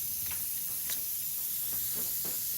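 Spray paint hisses steadily onto synthetic paper in a constant close spray, with a few faint taps in the background.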